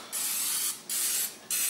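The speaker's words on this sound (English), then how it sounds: "Now I'm gonna go ahead and spray the top of these with" Cooking oil spray hissing over shrimp in an Actifry air fryer basket, three steady close bursts with brief pauses between them.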